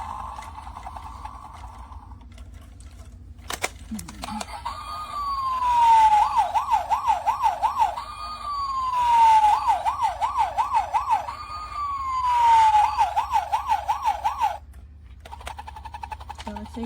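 Toy police helicopter for kids sounding its electronic siren: a rising tone that breaks into a fast warbling wail, repeated three times in loud swells, with quieter sound between.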